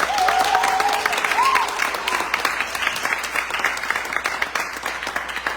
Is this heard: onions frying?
no